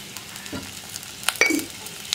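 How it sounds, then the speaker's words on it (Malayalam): Sliced onions, green chillies and curry leaves sizzle softly in a pan, with a few scrapes and clinks as they are stirred, close and brief, no talking. "ഇനി സവോളയൊക്കെ ഒന്ന് ട്രാൻസ്പെറൻ്റ് ആയി വരുന്നത് വരെ ഒന്ന് ഇളക്കി കൊടുക്കുക"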